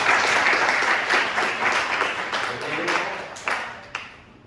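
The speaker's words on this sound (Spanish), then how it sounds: "un aplauso para la doctora" A medical school class full of people clapping, loud at first then thinning out, with a few last scattered claps at the end.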